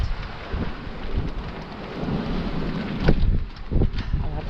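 Strong wind at sea roars across a sailboat moving under mainsail alone, a steady broadband rush with louder gusts and buffeting thumps toward the end, no talk.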